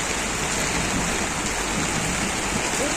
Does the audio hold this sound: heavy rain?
yes